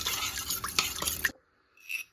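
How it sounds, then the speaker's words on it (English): Shredded beef stirred around inside an Instant Pot, giving a short burst of wet, clattering scrapes and clinks up close, then a pause and a faint final clink. "I'm just gonna stir it around a little bit."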